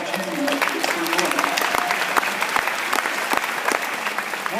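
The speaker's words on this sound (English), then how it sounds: "I want to applaud you for doing" Steady audience applause fills the room, dense overlapping claps sustained throughout at moderate loudness, with no voices breaking through.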